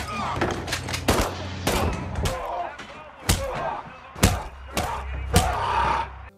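Gunshots from The Equalizer (2014) ring out as a series of sharp, close bangs at irregular intervals, mixed with thuds and a narrating voice throughout.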